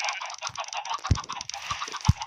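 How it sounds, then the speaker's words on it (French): Poultry in a Minecraft-style block-building game, chickens clucking and squawking in a loose, uneven run of calls with a few low thumps underneath, moderately loud and continuous with no talking. "Je baisse le volume, bien sûr, parce que c'est un peu énervant, les poulets"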